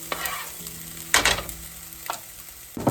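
Chopped garlic cooking in a hot pan, giving a soft steady sizzle with a few sharp stirring scrapes standing out, close and moderately loud, with no voices.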